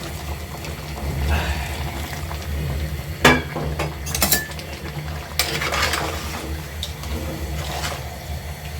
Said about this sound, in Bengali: এখন আমি অল্প জল এড করে দেব